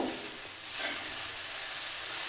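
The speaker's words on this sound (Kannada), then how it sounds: "ಹಾಗೆ ಈ ಶಾವಿಗೆನ ನಿಧಾನಕ್ಕೆ ಮಿಕ್ಸ್ ಮಾಡಬೇಕು." Vermicelli bath being stirred slowly in a hot pan, a steady sizzle with a brief scraping swish near the middle, close and fairly quiet, with no one talking.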